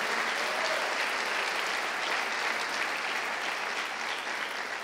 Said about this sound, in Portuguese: dá uma salva de palmas ao Senhor em nome de Jesus